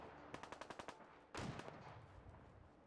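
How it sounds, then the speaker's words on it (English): Machine gun fire in Fallout 4: a quick burst of about seven evenly spaced shots, then a heavier blast that tails off, somewhat distant with no talk. "Do I want to be going towards the gunfire?"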